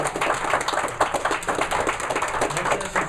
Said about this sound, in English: let's give Mr. Otis a round of applause